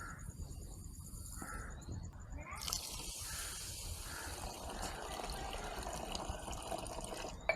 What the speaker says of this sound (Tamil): ஒரு கப் திணை. இதை நாங்கள் இப்ப கழுவ